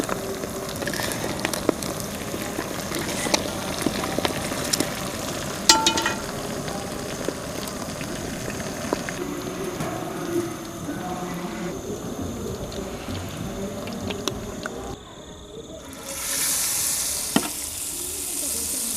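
Egg pieces frying in hot oil, giving a dense rain-like sizzle close by. A brief dip near the end is followed by a louder hiss.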